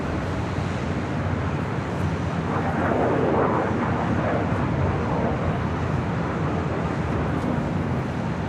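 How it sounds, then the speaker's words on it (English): Air Tahiti Nui Boeing 787-9 Dreamliner taxiing at Los Angeles International Airport, a steady broadband jet roar heard from a distance, blended with wind buffeting the microphone throughout. "It's a 787-9 Dreamliner making her way up here to the north side."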